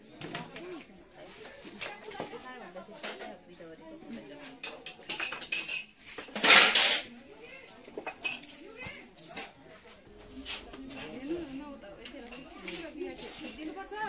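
Dishes and cutlery being washed at an outdoor water tap, with clinking metal and splashing throughout, a sharp clatter midway, and people chatting over it.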